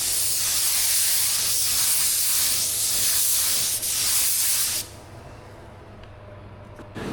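Spray gun applying a base coat of paint to a car fender, a loud steady hiss of air and atomized paint running for several seconds before cutting off, leaving quieter room noise.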